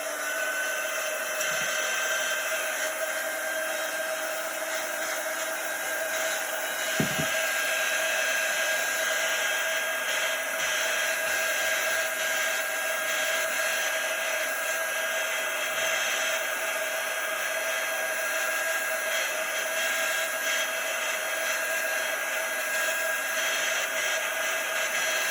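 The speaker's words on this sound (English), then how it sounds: "we're going to use our quick dry tool" A handheld quick-dry heat tool blows steadily over a chalk-paste silkscreen, a constant whirring hiss that holds loud and even for the whole stretch, alone with no talking.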